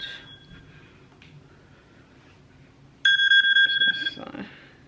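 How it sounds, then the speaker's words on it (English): A phone rings out on a porch, a sudden loud electronic ring tone cutting in after a stretch of quiet background, repeating briefly before fading. "my phone's ringing."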